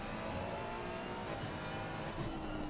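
A GT3 race car in a racing video game at the Nürburgring, its engine droning steadily and faintly with a slight rise in revs, no talk heard.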